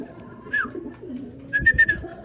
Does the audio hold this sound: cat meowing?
no